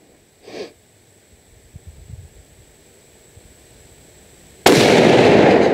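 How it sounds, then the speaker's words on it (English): A single loud, sharp shot from a Mossberg Patriot .243 rifle firing Fiocchi 80 grain Barnes TSX lead-free ammunition, abrupt and close, after a faint sniff and quiet handling noises outdoors. "shooting the Fiocchi 80 grain Barnes tip TSX lead free."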